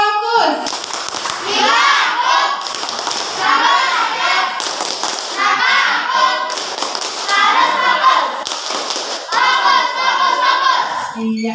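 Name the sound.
children doing rhythmic focus clapping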